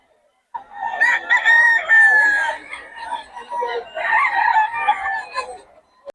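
Roosters in Bocaue, Philippines, crow loudly and close in two long, drawn-out calls, with scattered clucking mixed in and no talking.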